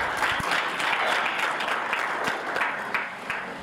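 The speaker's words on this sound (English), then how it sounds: "So we must clap our hands for them" An audience at a World AIDS Day commemoration claps hands in a sustained round of applause, dense and close, with a few sharper individual claps standing out.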